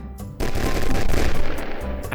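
Shooter-game gunfire and explosions from a mobile game, a loud dense burst of rapid shots and booming blasts that kicks in after a short quieter lead-in and keeps going without a break.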